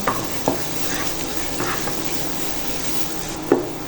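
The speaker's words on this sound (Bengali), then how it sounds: "এখন পেঁয়াজগুলো একটু ভেজে নেব" Onions frying in a pan as they are stirred, a steady soft sizzle broken by a few sharp scrapes and taps of the spoon, close and without speech.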